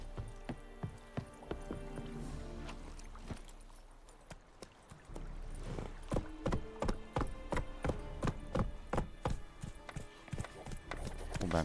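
Horse hooves clip-clop in The Witcher 3 video game, a quick rhythmic string of loud close footfalls that starts softly, pauses, then picks up into a steady trot.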